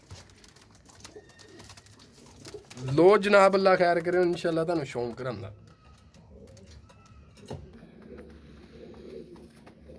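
Someone talks while a nearby Kasuri pigeon gives a drawn-out, rolling coo lasting a couple of seconds.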